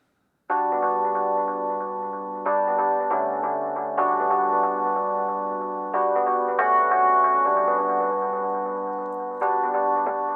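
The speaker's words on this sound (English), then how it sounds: "Now, with that delay, it sounds like this." A soft, muffled synth melody with a repeating delay echo, its bright highs rolled off, notes overlapping in a steady, moving pattern.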